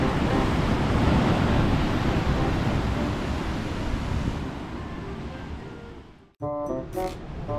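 Ocean surf washes steadily onto a shore in Bali, a broad rushing roar that slowly eases off before cutting away to other sounds near the end.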